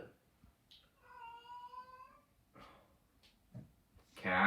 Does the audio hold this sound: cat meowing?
yes